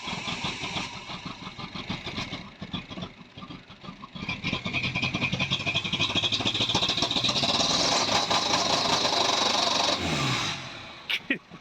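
A Ford Transit Connect van running about 29 PSI of boost is revved hard, its engine roaring loud and sustained for several seconds before easing off near the end.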